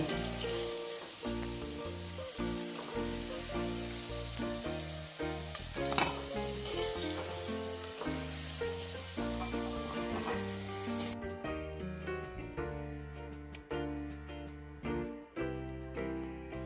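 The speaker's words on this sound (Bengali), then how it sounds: "আলু আমার লাল লাল করে ভাজা হয়ে গেছে" Potatoes fry in hot oil with a steady, crackling sizzle and occasional stirring, partly masked by loud background music throughout.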